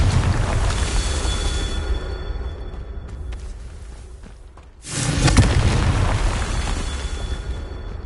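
Two loud booming blasts of the Confringo explosive spell in the Hogwarts Legacy video game, the second arriving around the midpoint after a brief dip in level, each with a broad roaring tail under constant game ambience.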